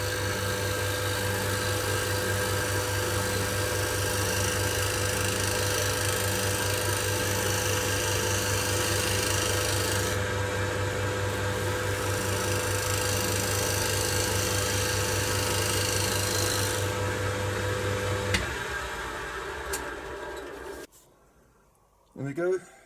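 A deep bowl gouge cuts a wet wood bowl spinning on a lathe, giving a steady, loud, sustained rasping drone with a rhythmic pulse from the rotation. The cutting stops near the end and the sound trails off.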